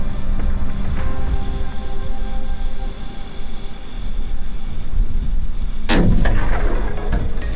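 A single loud gunshot while deer hunting outdoors, a sharp crack with a short echo near the end, heard over steady dense cricket and insect chirping, no talking.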